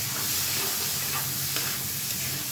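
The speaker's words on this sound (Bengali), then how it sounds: "সব কিছুতে ভালোভাবে মিক্স করে আবার একটু নাড়িয়ে তুলে নিচ্ছি যাতে তলায় লেগে না যায়।" Vegetables being stirred in a pan for a home dinner, a steady low sizzle of frying with scraping stirring strokes throughout, close and continuous, no talking.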